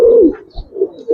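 Pigeons at a Giribaz and coloring pigeon farm give low, throaty coos in a few short swelling phrases, fairly close and moderately loud, with no talking.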